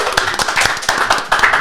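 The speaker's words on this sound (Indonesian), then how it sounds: "Berikan tepuk tangan untuk Nen Errol Iba" A short burst of clapping from a small group, with distinct individual hand claps landing in an uneven rhythm, fairly close and loud.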